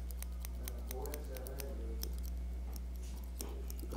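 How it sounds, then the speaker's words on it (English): Scissors snip through excess hair in a run of quick, light, crisp cuts, close by over a steady low hum, with no talking. "I'm just trimming the excess hair"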